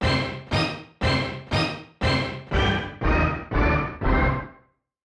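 16-bit chiptune main melody made in ultrabox: nine punchy synthesized notes in an even rhythm, each decaying quickly, loud and clean with no voices.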